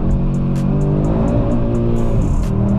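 A 400 PS Audi RS3 pulls hard under full throttle, its engine a loud, steady, rising drone with rich harmonics, heard from inside the car, with brief high ticks and a slight pitch shift near the end.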